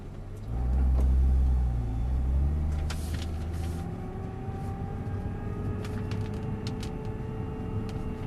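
A Nissan GT-R pulls away from a standstill in manual first gear on a track at Issoire, a loud low engine rumble swelling over the first second or two, then settling into a steady, rising drone as it accelerates.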